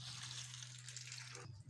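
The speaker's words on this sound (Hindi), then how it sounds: "इसमें हम पानी ऐड करेंगे" Water pours steadily into a bowl of freshly fried dahi bhalla dumplings to soak them. The flow is a quiet, continuous rush over a low hum and stops after about a second and a half.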